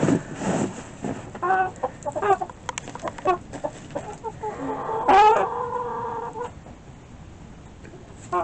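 Broody hens cluck and squawk inside a darkened coop enclosure, giving a near, irregular series of sharp calls and murmurs with one louder burst midway before fading to quieter rustling.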